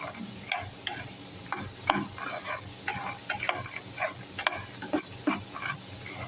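Peanuts with plenty of garlic frying in a pan, a steady sizzle with repeated scraping stirs of the spoon at an even pace, close up, with no voices.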